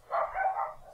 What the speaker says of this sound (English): Sorry if you can hear the dogs barking.